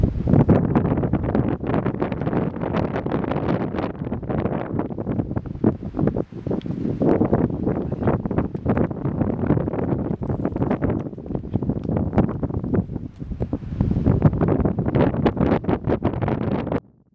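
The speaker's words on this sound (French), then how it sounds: "Il y a beaucoup de vent" Strong wind blowing outdoors at the edge of a field, loud gusting roar buffeting the microphone continuously, rising and falling in bursts, with no talk.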